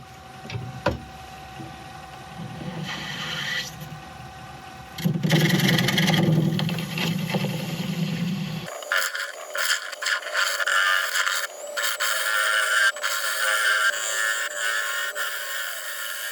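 A woodturning tool scrapes and cuts inside a spinning wood and epoxy resin piece on a lathe, giving a steady rough rasp with a louder gritty burst midway, then a thinner, sharper hiss with frequent clicks.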